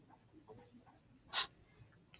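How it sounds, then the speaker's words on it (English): Pen or pencil writing out a math problem about the area of a square, soft faint scratching strokes with one brief louder scrape, close and quiet. "I'm actually going to write it out"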